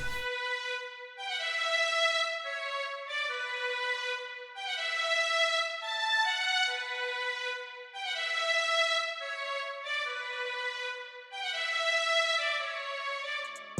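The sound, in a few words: orchestral string pattern with reverb, delay and EQ in FL Studio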